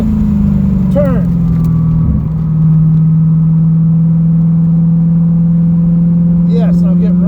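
A C4 Corvette engine drones steadily at a near-constant pitch while driving on a race track, with someone talking over the running motor.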